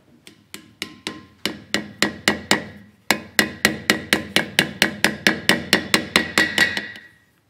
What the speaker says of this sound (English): So here, I've made it into a peen hammer.